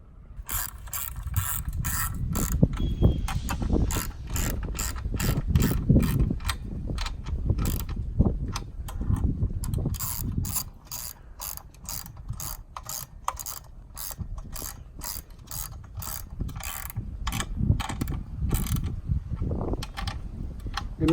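A ratchet wrench tightens bolts on a BlackHawk Titan 210 paramotor, producing rapid, close clicking pawl sounds in repeated bursts with brief pauses, alone without talk.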